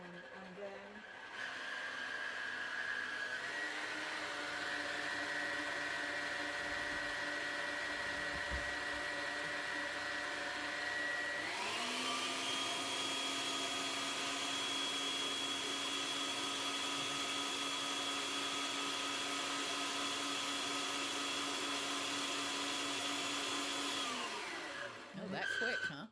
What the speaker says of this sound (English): Just whisk it